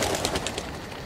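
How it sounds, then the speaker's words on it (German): Crows in Outlast 2, a brief series of soft, rhythmic calls repeating over a dense, noisy game ambience, moderately loud with no talk. "Ich hasse Krähen in diesem Spiel."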